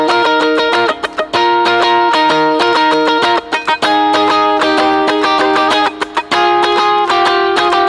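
An electric guitar picks out a riff as a bright, clean, repeating pattern of quickly plucked notes, close and steady with brief gaps between phrases and no voice.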